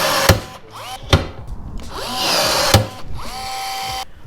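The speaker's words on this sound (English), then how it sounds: "Now we just need to rivet it in place." Aluminum jon boat getting a metal trolling-motor mounting plate riveted in place: three sharp, loud rivet snaps spaced apart, with tool whirring and squealing metallic tones between them and no talking.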